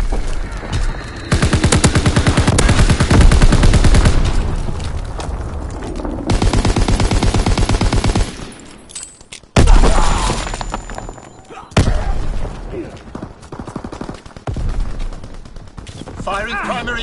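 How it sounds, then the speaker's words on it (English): Heavy warship main-battery gunfire in a WWII naval combat game: loud repeated booming salvos and rapid bursts over roughly seventeen seconds, with a sharp blast partway through and game voice lines heard amid the firing. "Firing primary battery."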